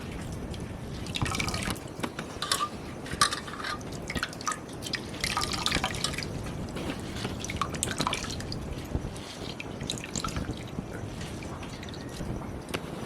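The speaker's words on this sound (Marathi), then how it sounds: "हे बघा असं पूर्ण प्रॉपर पाणी काढून घ्यायचं" Water draining off boiled wild banana vegetable, a continuous close patter of dripping and trickling liquid with small splashes, steady and moderately loud throughout.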